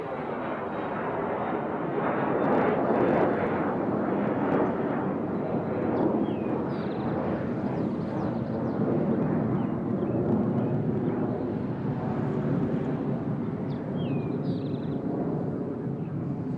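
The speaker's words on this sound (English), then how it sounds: "here goes Aer Lingus as they prepare to head back to Dublin" An Aer Lingus airliner departs Nashville International Airport bound for Dublin, its loud, steady jet roar filling the whole stretch with no pauses, while faint bird chirps poke through in the background.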